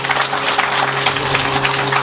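Dense, steady applause from an audience at a children's Christmas event in Benin, even clapping throughout with no break and a faint hum underneath.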